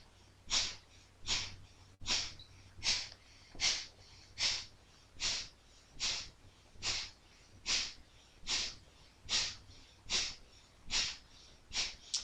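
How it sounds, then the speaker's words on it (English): Rapid breath of fire from a Kundalini yoga session: steady, forceful panting bursts through the nose, about sixteen sharp exhalations evenly spaced, close and alone with no talking. "So we'll just begin a minute of breath of fire here, panting like a dog through the nose"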